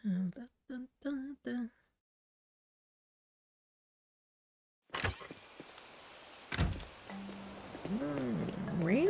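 Steady hissing rain in Animal Crossing: New Horizons begins after a short stretch of silence, with soft game tones sounding over the patter. Brief vocal sounds come before the silence.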